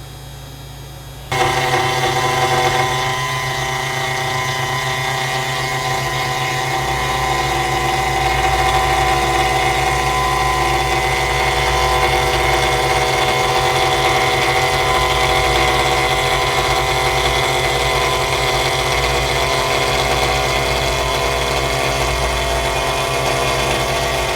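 A CNC machine jogs its axis toward the front at a slow feed rate, switching on with a sudden step into a steady, loud mechanical hum and whine that holds evenly throughout.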